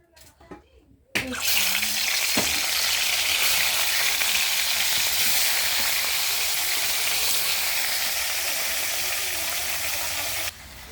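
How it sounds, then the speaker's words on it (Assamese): Fish frying in a pan for fried rice: a steady, loud broadband sizzle starting abruptly after a second of quiet and continuing evenly, close up, then dropping slightly near the end. "প্ৰথমতে মই মাছখিনি ফ্ৰাই কৰি ল'ম"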